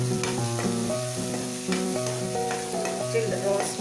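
Ginger, garlic and onions frying in a pan, a continuous close sizzle broken by regular scraping stir strokes over several seconds, with no one talking.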